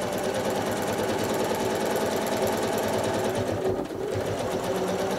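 A sewing machine stitching steadily while free motion quilting zigzags and lines across a cotton pinwheel quilt block, a close, continuous mechanical whir and rapid needle chatter with only a brief dip in pace.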